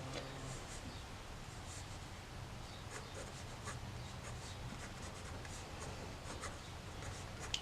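A pen scratches softly across Faber-Castell sketchbook paper while sketching eyes in a portrait, with faint, continuous small strokes and ticks at low volume.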